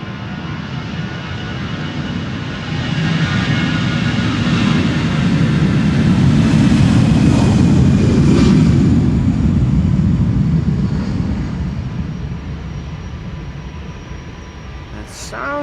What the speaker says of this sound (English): This is KLM EasyJet flight 22162 going to Chester.